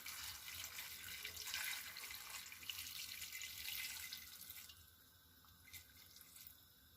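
Water runs steadily into a cooking pot on the stove, a soft continuous splashing pour that thins out and stops near the end, quiet and close with no talk.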